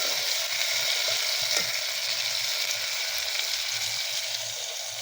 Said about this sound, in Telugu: చేపల కర్రీ రెడీ అవుతుంది